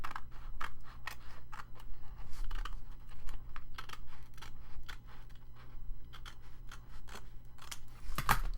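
Scissors trim a strip of paper for a card and envelope journal, a long series of crisp snips and rustles at an uneven pace, close up with no talking.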